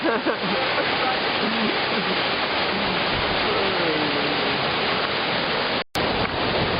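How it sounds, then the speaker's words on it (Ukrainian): A rushing, turbulent mountain river near the Zhenets waterfall roars as a dense, steady broadband wash, loud and close throughout, cut by one brief dropout near the end. "так, ми спустилися до річки. Ось бачите, яка вона сьогодні така хороша, бурхлива"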